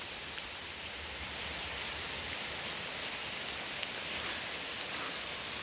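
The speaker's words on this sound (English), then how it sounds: "it's been downpouring all day." Heavy rain pours steadily over a flooded wood yard with buried old logs and a log pile, a dense, even hiss of downpour filling the scene without pause and no voices.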